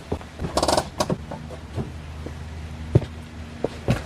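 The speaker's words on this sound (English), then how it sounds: "So now when I rip the e-brake" A BMW E36 parking brake lever is pulled up, giving a series of close mechanical creaks and quick ratcheting clicks spread over a few seconds.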